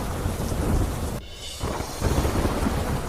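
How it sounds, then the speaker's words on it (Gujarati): Heavy monsoon downpour in South Gujarat pours steadily and loudly, with a deep rumble of thunder rolling through the rain and a brief dip in intensity midway. "દક્ષિણ ગુજરાતમાં ધોધમાર વરસાદથી જળબંબાકાર."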